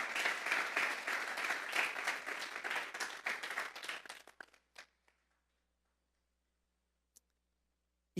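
A church congregation applauds during a Spanish-language service, a dense crowd of clapping hands that carries on for about four seconds, then thins to a few scattered claps and fades out.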